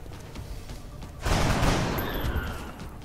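Soldiers open fire in the turn-based strategy game XCOM: Enemy Unknown, a sudden loud burst of gunfire that swells and slowly decays over quieter game ambience.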